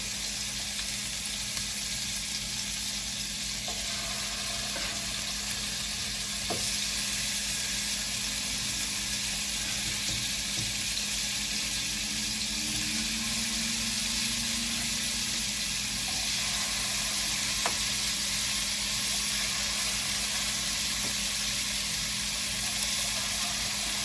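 Tofu vegan steak tips sear in a hot pan with a steady, even sizzle and hiss, moderately quiet and close, with a low mechanical hum underneath and a few faint clicks, no voices.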